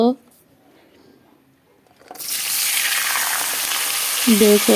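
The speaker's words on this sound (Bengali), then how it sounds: "আলু ভাজা বসিয়ে দিয়েছি" After a quiet pause, a loud, steady sizzle bursts out as potatoes drop into hot oil in a kadai; a voice speaks briefly at the start and end.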